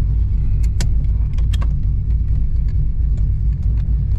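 Car engine idling with a low steady rumble, a few metallic clicks and clinks over it, no voices.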